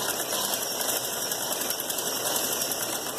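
Sewing machine stitching along the edge of a folded fabric strip as piping is attached to a kameez, a steady, continuous mechanical whir running close and unbroken with no talking.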